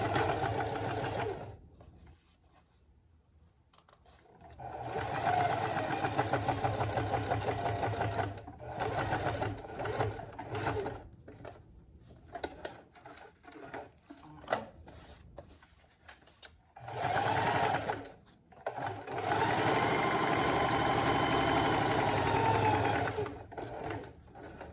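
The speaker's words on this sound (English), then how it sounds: "so now we're gonna be sewing the pockets down" Sewing machine stitching the pockets down on a fabric wallet, running in bursts of rapid, even mechanical chatter separated by pauses, close and clear, with little or no talk.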